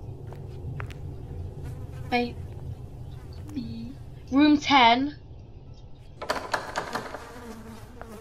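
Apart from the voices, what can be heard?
bees buzzing in Roblox video game The Asylum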